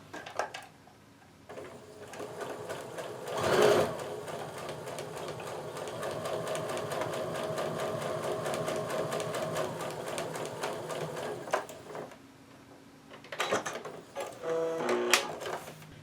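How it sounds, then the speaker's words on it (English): A sewing machine stitches along a seam line through quilt pieces, a steady close mechanical whir running for about eight seconds between quieter handling sounds and a few short bursts near the end. "now I'm going to sew right on my second line."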